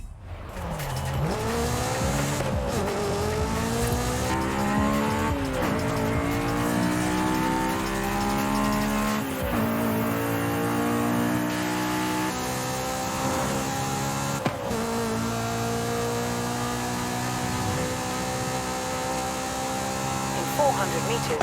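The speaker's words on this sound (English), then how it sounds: "I think I probably would have preferred to go for the straight six now that I can hear the engine a bit more clearly" A race car engine in Forza Horizon 5 revs hard through repeated gear shifts, rising and dropping in pitch, with tire squeal and skidding, loud and continuous, while a person talks over it.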